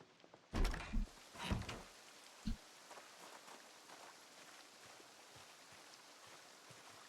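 Steady soft rain patters in the game Project Zomboid, a faint continuous hiss broken early by a few heavy thumps.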